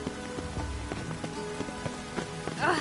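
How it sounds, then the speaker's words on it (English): Steady rain falls in The Witcher 3 on PS4, a constant broadband patter that holds for the whole stretch, with a few soft in-game thuds and a brief swell near the end. "Looks like rain."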